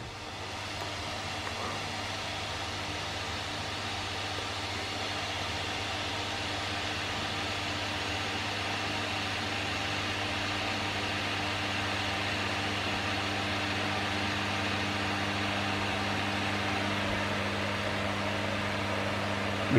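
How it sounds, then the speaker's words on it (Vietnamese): An induction cooktop with a COPRECI board runs its cooling fan, giving a steady electrical whir and hum with a low tonal drone that holds constant and slowly builds slightly, with no speech. "Xem quạt nó có chạy không?"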